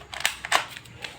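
An SW40F pellet pistol fires two or three sharp, snappy cracks in quick succession, fairly close and loud, with a lighter click afterward and no talking.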